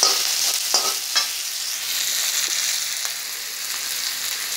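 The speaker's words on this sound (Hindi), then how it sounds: "और प्याज चाहिए थोड़ा फ्राई कर लेंगे" Onions are stir-fried in a pan, sending up a loud, steady sizzle close by, with a few early clicks and scrapes of a spoon against the pan.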